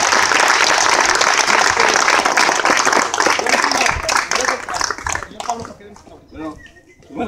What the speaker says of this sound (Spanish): todos los niños y todos los padres, les pido de una manera muy atenta y respetuosa que le brindemos un fuerte aplauso a Pablo Segura